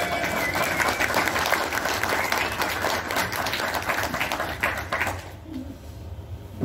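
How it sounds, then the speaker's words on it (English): A WonderFest convention audience at a Star Trek panel applauds John Eaves, steady close-packed clapping lasting about five seconds before it abruptly drops away to a quiet room hum. "Let's give a warm WonderFest first time applause for Mr."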